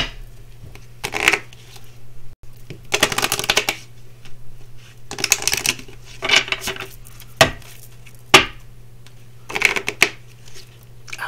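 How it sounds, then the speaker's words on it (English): A deck of tarot shadow cards is shuffled by hand in repeated bursts of riffling and flicking, each a second or so long with brief pauses between, close and crisp with no talking. "So shuffle the shadow cards."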